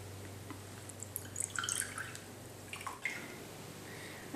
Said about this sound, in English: I'm opening up the jar now, and then what I'm going to do is drain some of the juice off the top